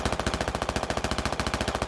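A 12.7mm heavy machine gun fires a fast, unbroken stream of evenly spaced, punchy shots at a scout car in a military video game. The burst is loud and close.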